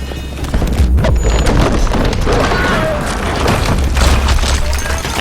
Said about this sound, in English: Nearby explosions rock your ears.